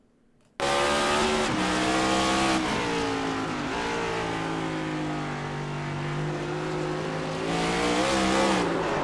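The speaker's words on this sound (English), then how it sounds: "getting on the throttle, and the wall kind of straightened him out a little bit" A race car in the iRacing video game accelerating hard at the Roval, its engine note climbing and holding loud and close, with shifts in pitch as it pushes on the throttle after brushing the wall.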